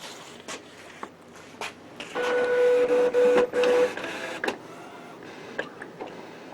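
An Epson Artisan 1430 inkjet printer runs a print job, a steady mechanical whir with a sustained motor tone in the middle, between soft clicks and carriage thumps at a moderate indoor distance.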